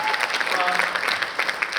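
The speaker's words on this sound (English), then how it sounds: "clap up for Carrie Wood Endowed Scholarship" Audience at a university design and production lighting department showcase bursts into steady, dense applause, a continuous close wash of many hands clapping for a scholarship announcement, with faint voices mixed in.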